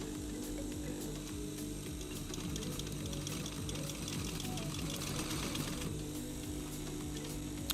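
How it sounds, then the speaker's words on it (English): A sewing machine stitches a DIY clamshell pouch in a steady, even mechanical whir with fast rhythmic needle clatter, running unbroken and close throughout. "Finish the sewing."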